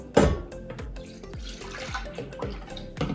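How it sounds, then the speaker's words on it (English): Cherry juice poured into a cooking pot, quiet splashing and trickling with a few soft drips and clinks, close up and low in level. "get out as much juice as you can and then pour that into the pot as well"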